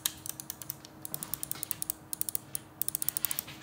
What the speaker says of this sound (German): Ihr könnt auch hier halt ganz hinten klicken